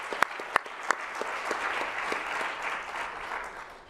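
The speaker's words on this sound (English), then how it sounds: "if we could all just give a round of applause to them" An audience at a big data conference claps in a round of applause, with a few loud nearby claps at the start and then steady, moderate clapping that slowly fades.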